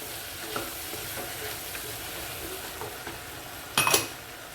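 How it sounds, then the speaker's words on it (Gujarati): Mixed vegetables for masala khichdi sautéing in a pan, a continuous moderate sizzle with a few soft stirring scrapes and a louder burst of hissing near the end. "હવે થોડી વાર વેજીટેબલ સંતરાવા દેવાના છે"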